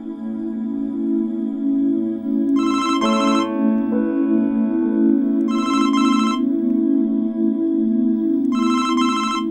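A telephone rings in a home during a Pakistani TV drama, three short bursts of bright electronic ringing spaced a few seconds apart over a steady low background score.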